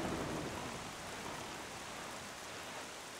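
Steady rain in the video game Legend of Zelda: Wind Waker makes a dense, even hiss that fills the whole stretch without let-up, with no voices over it.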